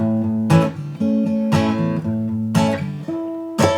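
Guitar chord triads strummed in a steady rhythm, about four sharp strums roughly a second apart, each ringing out as the chord shape shifts.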